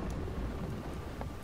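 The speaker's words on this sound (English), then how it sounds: "I fucking don't like the thunder." Low rolling thunder rumbles continuously inside the Roblox horror game Doors, a dense, muffled roar that fills the background with a faint patter of rain and no speech.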